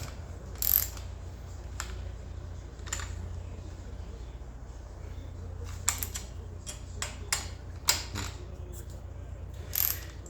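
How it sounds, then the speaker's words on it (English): A ratchet tightens motorcycle handlebar risers on a springer front end, making quiet, scattered bursts of clicking with short pauses between strokes against a low background hum. "So now we're gonna ratchet it down."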